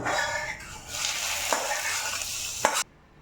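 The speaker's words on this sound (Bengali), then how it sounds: "তেল গরম হয়ে গেছে ওর মধ্যে দিয়ে দেবো আমি কিছুটা পরিমাণ সর্ষে নিয়েছি গোটা সর্ষে আর কারি পাতা" Whole mustard seeds and chopped curry leaves hit hot oil in a pan with a loud, bright sizzle and crackle that sputters on, then cuts off sharply near the end.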